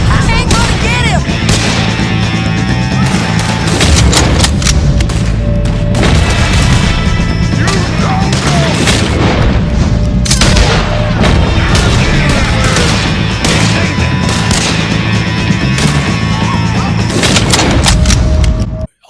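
Loud, dense gunfire from a Red Dead Redemption 2 shootout, with rapid overlapping shots, booming blasts and crashes packed continuously throughout, over game music and occasional voices.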